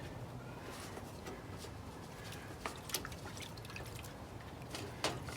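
A lawnmower air filter soaks and gets cleaned in liquid, giving a soft steady wash of liquid noise with a few brief drips and splashes, close by and fairly quiet.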